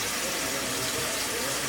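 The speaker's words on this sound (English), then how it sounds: "So I'm going to fill this up with water." Water from a tap rushes steadily into a tight-fitting pot, filling it for cooking Swedish-style cabbage rolls, with a continuous loud splashing pour.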